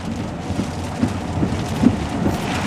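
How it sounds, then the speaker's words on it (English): A tornado storm sweeps close by with steady roaring wind and heavy rain, a dense continuous rush with a few low rumbles and gusts, loud and enveloping, no talking. "You're approaching a twisting storm."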